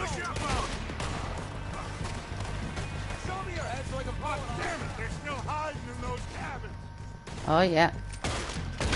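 Gunfire in Red Dead Redemption 2, a scattered run of sharp shots amid hoofbeats and game music, with someone talking over much of it and one louder burst near the end.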